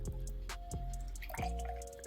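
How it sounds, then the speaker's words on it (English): Homemade turmeric ginger lemon tea is poured into a cup, giving a trickling, dripping liquid sound with a few splashy drops at irregular intervals, close and quiet. "Just pour the tea."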